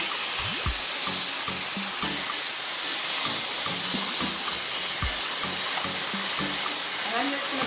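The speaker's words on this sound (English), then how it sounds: "my oil's sizzling" Loud, constant sizzle of hot oil with clattering and bumps of chicken pieces being laid in a pan to sear, and kitchen noise throughout.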